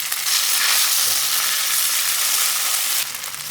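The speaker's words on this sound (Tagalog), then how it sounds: "Next, yung meatloaf naman ng aking pipirituhin." Meatloaf frying in oil in a pan gives a loud, steady, dense sizzle that runs without a break and eases off slightly near the end.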